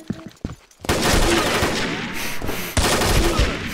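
Sustained automatic gunfire from the video game Combat Arms during an online team match: dense overlapping bursts, loud and close, with a short pause and then another heavy volley.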